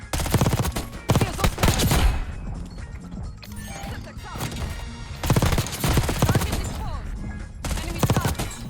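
Heavy automatic gunfire in an Activision shooter game, with dense, loud bursts of shots crashing over each other in two long volleys and a busier stretch of scattered shots between them. No voices are heard.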